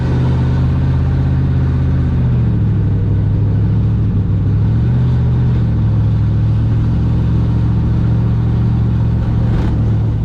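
Maliboom off-road vehicle engine droning loudly and continuously while driving at Thunder Valley, a low steady rumble with a slight shift in pitch as it holds speed, no talk over it.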